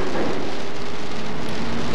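Steady rain falling in the train game Densha de Go 3, running a Sobu Line 205 series commuter train between Shinjuku and Akihabara, a loud, even hiss with no breaks and no talking.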